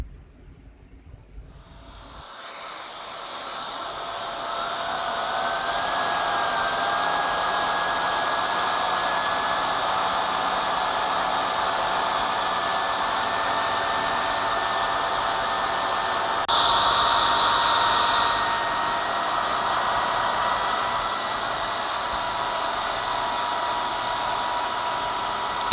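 A Bissell 2998 Pet Eraser vacuum cleaner, freshly repaired with its wand release and turbo attachment fixed, switches on and runs with a loud, steady whine that rises and holds for the whole stretch, with no talking.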